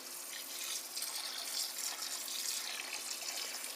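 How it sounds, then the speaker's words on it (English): Steady broadband rush of water spraying from a pressurized hose onto aquarium rock during a water change, continuous and fairly close, with no voices over it. "I'm just going to use the hose, pressurize it, and kind of spray off some of the water on the rock"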